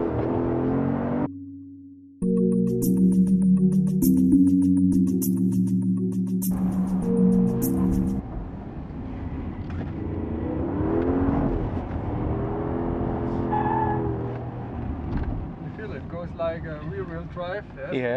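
A Porsche Cayenne, S or Turbo, accelerating hard in Sport Plus mode on a track hot lap, its engine note rising and falling under steady wind and road roar, with people talking inside the cabin.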